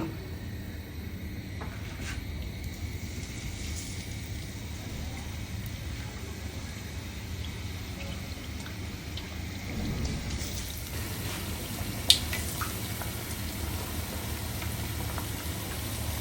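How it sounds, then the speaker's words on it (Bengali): Milk puli pitha dumplings fry in hot oil, giving a steady, fairly faint crackling sizzle with a few sharper pops along the way. "তেলটা আমার গরম হয়ে গেছে, আমি এখন এগুলো ছেড়ে দেব"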